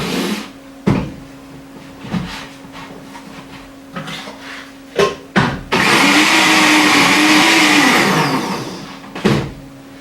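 A blender mixes a hemp seed boilie bait mix, with short pulses and clunks early on, then a loud sustained whirring run of about three seconds whose pitch wavers before it stops, followed by another brief burst.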